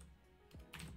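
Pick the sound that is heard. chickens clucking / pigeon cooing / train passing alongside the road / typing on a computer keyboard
typing on a computer keyboard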